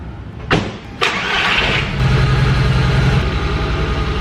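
A VW MK1 Rabbit 1.8t AWD engine cranks with two sharp starter attempts, then catches and settles into a loud, steady idle close by, with no talk over it.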